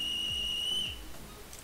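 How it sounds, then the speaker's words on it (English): A whistle blown in the Roblox game Aquarium: one sustained, shrill, steady tone lasting under a second, then cutting off, leaving faint low background sounds. "I blew a whistle"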